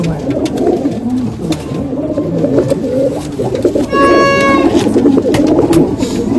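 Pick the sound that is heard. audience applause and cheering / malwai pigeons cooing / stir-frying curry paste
malwai pigeons cooing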